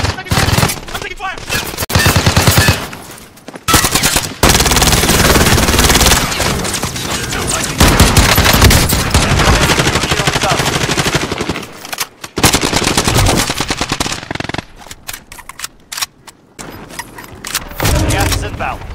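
Dense automatic and single gunfire from the video game Warzone, loud and continuous with bursts, booms and brief pauses, layered with game noise and voices talking throughout.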